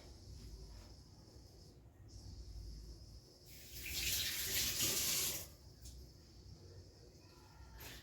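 Faint running water trickles, then pours more strongly into flour for a couple of seconds before easing back to a quiet background hiss.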